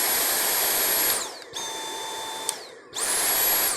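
A Dyson Car+Boat handheld vacuum whines loudly and steadily, then winds down, settles into a lower-pitched running mode with a small click, and spins back up to its full high-pitched whine.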